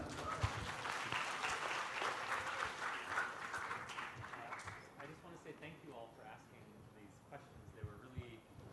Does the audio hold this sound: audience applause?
yes